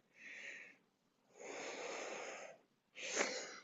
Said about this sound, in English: Breathe, big, deep breathing